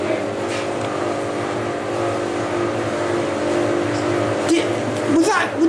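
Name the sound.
car passing outside at night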